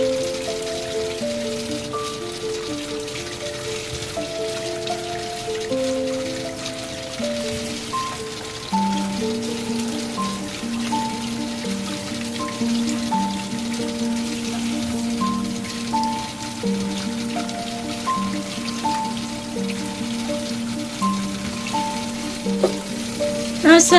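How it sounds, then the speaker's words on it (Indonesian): Peeled yellow pumpkin is washed in water, a steady hiss of running, splashing water that continues throughout under prominent background music. "selesai dikupas kemudian ini kita cuci bersih"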